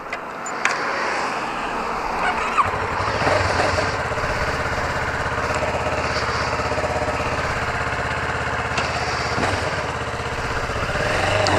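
A 2012 Kawasaki Ninja 650R motorcycle engine runs steadily with a loud, continuous droning rumble, heard up close from the rider's position.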